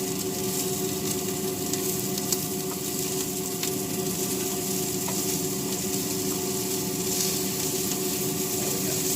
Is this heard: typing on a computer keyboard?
no